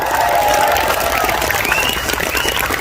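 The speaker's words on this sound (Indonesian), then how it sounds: "Sekhermania, tepuk tangan." At a religious gathering in Taichung, Taiwan, a large crowd of fans applauds on cue, dense continuous clapping mixed with cheering and a few rising shouts, loud and sustained.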